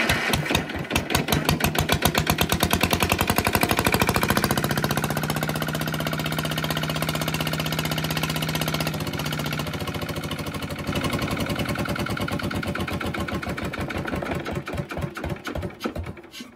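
A Lister LT1 engine running steadily after starting, a loud, rapid, even diesel chugging that holds for the whole stretch with a brief drone underneath, alone with no talk.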